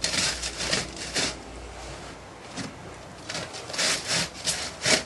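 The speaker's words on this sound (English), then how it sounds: "the sand that goes against the pattern is got to be put to a riddle" Used foundry casting sand, flecked with bits of brass and aluminium, being shaken through a riddle, rhythmic rasping sweeps in repeated bursts with short pauses, close and fairly loud.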